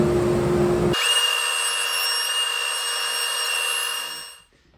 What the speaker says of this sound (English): So just working on now getting this sanded down.